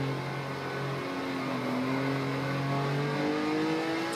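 A Porsche 911 on the Nürburgring track pulls out of a chicane under throttle, its engine note rising steadily at moderate volume, heard from inside the car with no talk.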